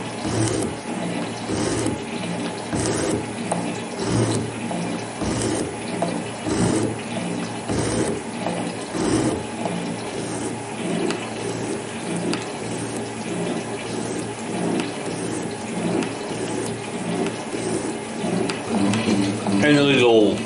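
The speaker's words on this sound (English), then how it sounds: "Cutting grooves with this machine is always a bit a challenge because" A scale model metal shaper cuts grooves in a metal workpiece, its ram strokes repeating in a steady mechanical rhythm for the whole stretch, fairly loud and close, with a busy whirring drive underneath.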